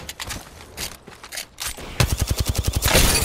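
Gunfire in the video game Apex Legends starts with scattered single shots and bursts, then breaks into a loud rapid automatic volley of evenly spaced cracks.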